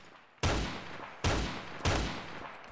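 Three loud, sharp pistol shots from Roblox Phantom Forces ring out alone at an uneven pace, each one a sudden crack followed by a short decaying tail.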